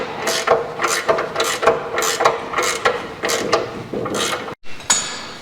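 Rapid ratchet clicking from a wrench loosening a bolt on a Tri-Five front suspension, sounding close and loud in repeated bursts of quick pawl clicks with short pauses, and no talking.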